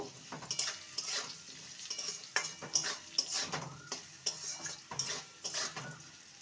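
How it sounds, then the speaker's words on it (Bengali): A spoon stirs moong dal with turmeric and salt in a pot, ahead of the ridge gourd, making quiet repeated scrapes and metallic clinks against the pan in an irregular rhythm, faint and close. "স্বাদ অনুযায়ী লবণ ভালো করে নেড়ে নেব"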